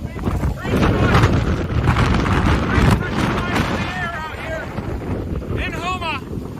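Strong hurricane winds from Ida roar outdoors in Houma, Louisiana, a loud gusting rush buffeting the microphone, with whining tones from power lines rising near the end.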